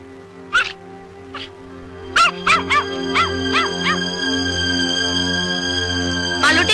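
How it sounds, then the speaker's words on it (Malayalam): A dog gives a run of sharp yips and whining barks, a few scattered at first and then several in quick succession, nearby over a tonal musical background. "എന്താ ഈ പട്ടിക്ക്?"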